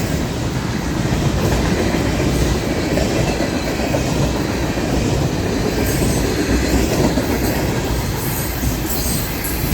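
FEC freight train with ethanol tank cars passing close in Fort Lauderdale, a loud continuous rumble of wheels on rails with rhythmic clatter and occasional high wheel squeal throughout.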